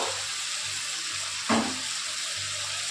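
Papaya, potato, long beans and tomato frying in a pan give a steady, faint sizzle throughout, with a brief louder hiss midway as the mixture is stirred or added.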